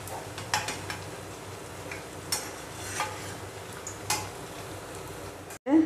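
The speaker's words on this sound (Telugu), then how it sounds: "ఇప్పుడు ఫ్రై అయింది, వేడైంది, ఫ్రై చేసుకుందాం." Potato smiley snacks fry in a pan with a soft steady sizzle, punctuated by occasional light taps and scrapes of a spatula, ending with a sharp clatter.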